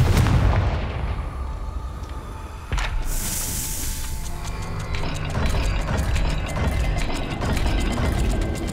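A Confringo spell explosion in Hogwarts Legacy cracks out sharply amid loud mechanical clanking and ratcheting of turning dial gears, with a bright burst partway through and continued rattling machinery afterward.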